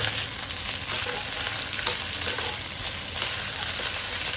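Sliced okra fries in hot oil in a home kitchen pan, giving a steady, close sizzle with occasional stirring scrapes, no voices.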